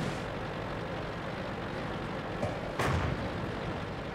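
A French Char D2 tank takes fire in World of Tanks: a steady low engine rumble carries a couple of sharp impact cracks near the end, the second louder and brighter.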